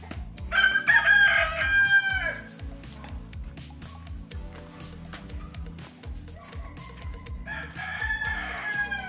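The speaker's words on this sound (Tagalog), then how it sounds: "Pero may mga manok dito." Rooster crowing on a rural plot of coconut and cacao farmland, two loud close crows at the start and end with a steady low hum beneath.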